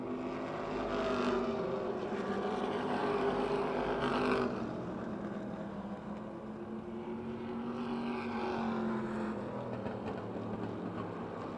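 Stock cars in a heat race at Motordrome Speedway roar steadily around the oval, engine drone rising and falling as the pack passes, loud and continuous with no talk.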